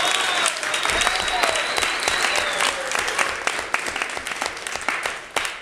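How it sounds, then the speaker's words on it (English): An audience applauds improv comedy players at a live show, a sustained wash of many hands clapping with scattered voices and a faint whistle or cheer, tapering toward the end. "Let's give them a round of applause"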